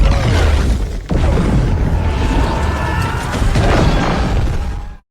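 A bomb blasts beneath an elevator in a Batman film scene, a loud roaring explosion with crashing debris and rumble that runs continuously for about five seconds with a brief dip near the start before cutting off.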